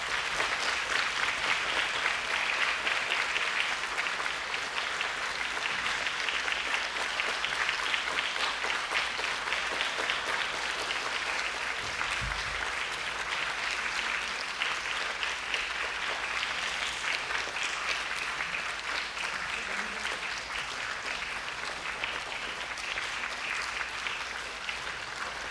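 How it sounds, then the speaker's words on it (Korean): A large audience at the 9th Korean Children's National Assembly gives steady, sustained applause welcoming the National Assembly speaker, a dense wash of clapping that holds for the whole stretch without voices. "힘찬 박수로 환영해 주시기 바랍니다."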